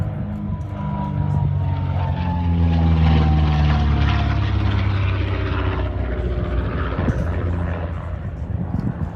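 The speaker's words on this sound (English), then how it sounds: "the bespoke R version of de Havilland's Gypsy 6 engine, which had been developed in its original form for the Dragon Rapide" A de Havilland DH88 Comet, a twin-engined two-seat aircraft powered by Gipsy Six R piston engines, drones past with a deep propeller hum and a slowly falling pitch, loud and continuous.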